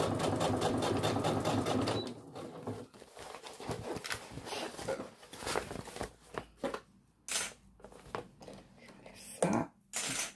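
A sewing machine stitching a fabric weekend bag runs steadily for about two seconds, then advances in halting, uneven bursts with pauses, under faint murmured speech.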